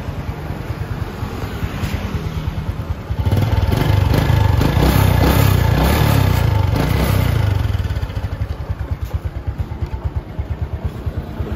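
A Suzuki Fu motorcycle engine runs steadily up close, with a rapid even putter that swells louder for a few seconds mid-clip before settling back, wind buffeting the microphone throughout.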